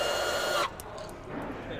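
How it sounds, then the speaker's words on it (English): Milwaukee M18 Fuel quarter-inch lock bolt tool driving a fastener, a loud whirring buzz that cuts off sharply partway through, followed by quieter faint clicks and rattles. "this is the 1/4-inch lock bolt tool with one key from Milwaukee, running on the M18 fuel platform"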